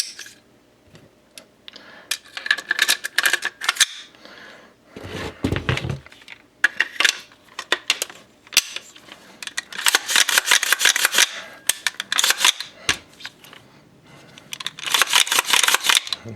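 AR-15 rifle parts being reassembled after lubrication, giving a series of sharp metallic clicks, snaps and rattles in irregular bursts, close and fairly loud, with no speech.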